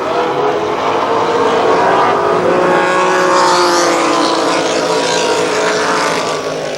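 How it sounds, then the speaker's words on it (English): ARCA Supercars at Kil Kare Speedway, 1994, roaring out of turn 4 as throttles open, a loud sustained engine drone rising in pitch with several cars blending together, no voices over it. "They pick up the throttle coming out of turn 4"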